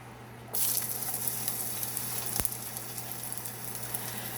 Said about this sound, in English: we're just gonna fry it